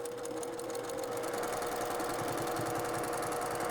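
A sewing machine stitching along the edge of a fabric composition book cover, a loud, continuous rapid mechanical whir and needle chatter running steadily from start to end, close up and without speech.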